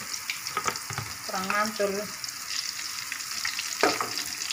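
Tempeh, tofu and eggplant fry in oil with coriander, giving a continuous soft sizzle and crackle while someone speaks briefly over it.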